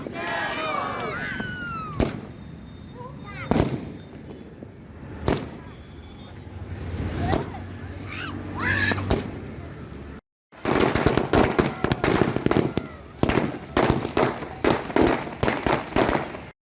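Firecrackers burst at an outdoor celebration by homeopathic doctors at Ambad Chaufuli in Jalna, India, a dense run of loud, sharp cracks following a stretch of speech and crowd noise.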